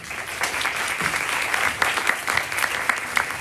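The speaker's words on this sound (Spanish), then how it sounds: "Un aplauso para él." An audience at a literary talk with a writer claps steadily, a dense, even burst of applause heard from within the room.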